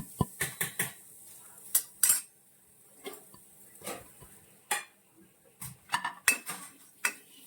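A spoon clinks and scrapes against a pan while grated coconut is dry roasted with fennel seeds and black pepper, giving sparse, irregular metallic taps over near silence.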